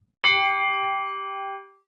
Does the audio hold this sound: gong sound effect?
yes